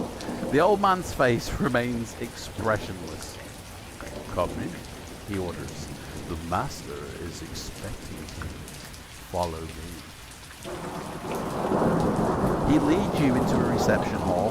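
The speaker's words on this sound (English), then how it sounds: "you can hear the rain outside, but not like it's kind of muted a little bit because it's outside." Steady rain with rumbling thunder fills the background during a Fighting Fantasy gamebook reading, continuous and fairly soft beneath someone narrating, swelling louder near the end.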